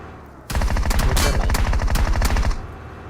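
Rapid machine-gun bursts fire in a vehicle combat video game, a loud, dense rattle that starts abruptly and runs steadily for about two seconds before cutting off.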